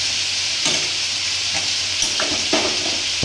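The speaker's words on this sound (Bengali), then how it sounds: "আর এই ভাজাটা কিন্তু এখন হচ্ছে, আর লাল লাল করে একটু ভাজবো আমি এই ভাজাটাকে" A pan of frying for shahi paneer curry gives a constant dense sizzle, close and fairly loud, with a few scraping stirs of a spatula breaking through; nobody speaks.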